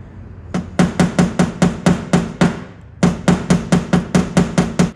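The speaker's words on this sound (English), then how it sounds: "Now I'm just going to tap down a little high spot right here." A hammer tapping down a high spot on a car body panel during dent repair, delivering two close, loud bursts of rapid, evenly spaced metallic taps, about eight to nine strikes each, separated by a brief pause.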